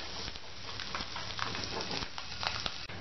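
Masala fries in a pan for a bread omelette sandwich, a steady close sizzle and crackle with light stirring scrapes and no voices.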